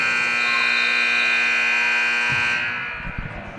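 A loud, sustained electronic buzzer ends the third quarter of a girls' high school basketball game, blaring for over two seconds, then cuts off, leaving crowd noise and a few thumps.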